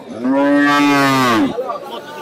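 A cow at a cattle market lets out a single loud, close moo lasting over a second, with faint market background noise after it.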